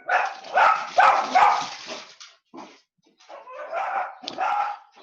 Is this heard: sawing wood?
no